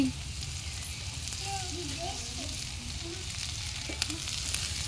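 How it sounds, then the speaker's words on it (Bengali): Egg pakoras fry in hot oil with a continuous, close sizzle and faint bubbling and crackle that holds steady throughout. "আমরা ডিমের পকোড়া ভাজতেছি"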